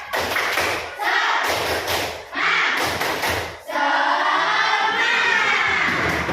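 A group performs the rhythmic 'tepuk semangat' spirit clap during a school coaching session, with loud bursts of thumping claps separated by short pauses and crowd voices shouting along.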